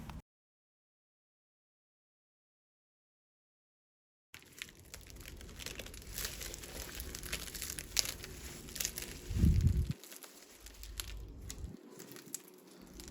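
Plastic freezer bags crinkle and rustle up close in a steady stream of soft crackling, after a few seconds of silence, with a brief louder handling burst.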